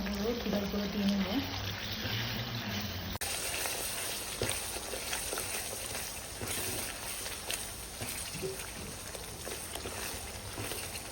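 Ground chilli, coriander and cumin frying in a pan for a home-cooked meal, a steady sizzle and hiss running throughout, fairly close, while someone talks over it.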